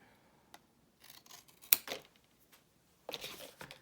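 Scissors cutting paper during a decoupage journal craft session, heard as a few short, crisp snips scattered across a quiet background, close by, with one sharper snap in the middle and a longer run of cutting near the end.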